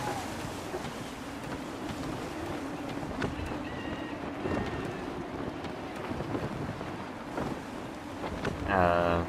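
Blustery wind and creaking sailing-ship ambience from Assassin's Creed 3 naval gameplay, a steady broadband rush with faint rigging tones, continuous and moderately loud throughout, with a brief rise near the end.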